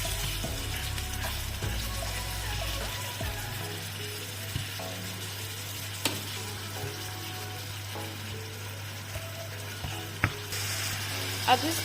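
Ground beef fries in a pan for a Cameroonian meat pie filling, giving a steady, close sizzle with a low hum beneath and occasional clicks and scrapes from stirring.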